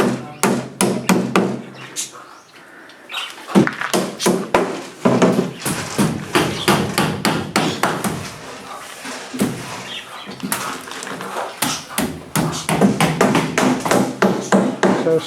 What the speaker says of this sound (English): And I think all that banging and knocking is the door being made.